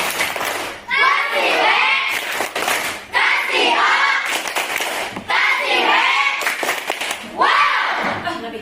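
Schoolchildren in a classroom do a rhythmic clap game, sharp bursts of group clapping alternating with lively shouted chanting from the kids, repeated in short cycles at close range.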